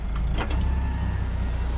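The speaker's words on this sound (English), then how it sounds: "Yeah, electric window." An electric truck window in American Truck Simulator whirs briefly after a short click, a steady motor hum over a low engine idle, close and clear with no talk.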